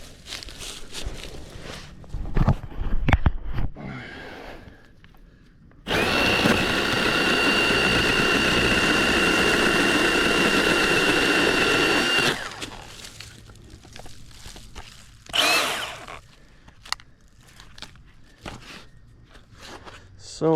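A Milwaukee Hatchet battery-powered saw clearing brush in woods runs in one sustained whine of about six seconds, close and loud, amid rustling, footsteps and brief cutting noises before and after.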